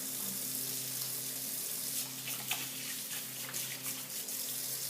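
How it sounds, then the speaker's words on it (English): Tap water runs steadily from a faucet as hands are washed at a kitchen sink during salmon prep, a continuous even hiss with faint splashing throughout. "Wash my hands again."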